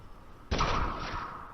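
A single sharp, loud gunshot-like burst in Fortnite gameplay cuts in abruptly after a quiet stretch, followed by a sustained noisy tail; a second shot is not clearly separated.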